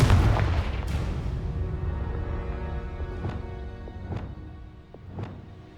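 A Confringo blasting spell from Hogwarts Legacy goes off with a loud opening boom, followed by three more sharp blasts spaced about a second apart as the rumble fades.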